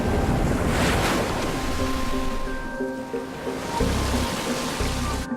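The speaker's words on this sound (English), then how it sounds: "Coral reefs surround the island, breaking the waves into perfect pipelines that beckon surfers from around the world." Ocean waves break over coral reefs around an island in a continuous loud roar of surf, with wind rushing against the microphone and faint tonal hums beneath.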